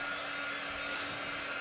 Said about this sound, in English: Now I'm going to dry this with our drying tool.